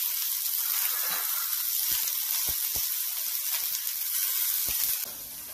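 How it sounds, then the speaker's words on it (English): Bottle gourd soup with capsicum cooking in a pan, a steady loud sizzle running throughout with occasional soft clicks of stirring, easing off slightly near the end. "Now we'll stir it for some time."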